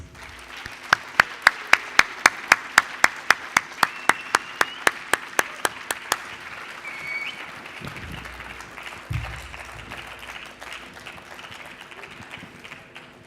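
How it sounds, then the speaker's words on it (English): A Toastmasters audience in Qatar greets a distinguished guest speaker: about twenty evenly spaced, sharp claps ring out in a steady rhythm, then fade into a quieter room with a few scattered thumps and shuffles. "give an energetic round of applause to our distinguished guest, Toastmaster Mohammad Al-Issa"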